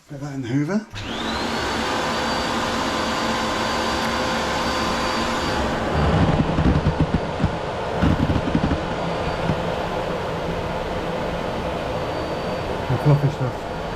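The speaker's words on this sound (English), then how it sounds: "Get that in the hoover." A household vacuum cleaner sucks up fluffy ceramic fibre debris from a Charnwood wood stove, a loud steady whine starting abruptly after a brief voice, with rattling surges as debris passes through the nozzle.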